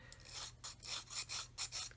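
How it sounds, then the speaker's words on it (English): A flat sanding stick rubs back and forth over photo-etch detail on a 1/32 OV-10 Bronco model kit, giving about eight soft, rhythmic rasping strokes, close and quiet. "gently sanding away on that detail"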